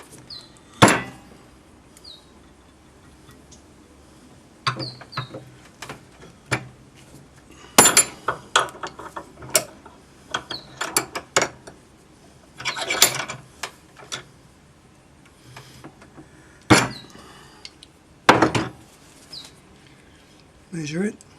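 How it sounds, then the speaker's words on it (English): Pliers drawing metal wire through a draw plate while making a disc ring, heard as sharp, irregular metallic clicks, clanks and scrapes in bursts with quiet gaps between them, close to the microphone. "They're made specifically for pulling wire through a draw plate, and you just go one hole at a time."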